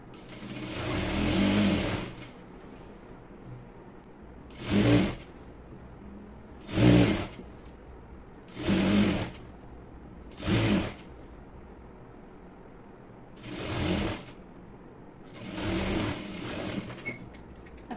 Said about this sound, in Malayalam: ഫുള്ളായിട്ട് ഇതുപോലെ തന്നെ സ്റ്റിച്ച് ചെയ്ത് എടുക്കണം കേട്ടോ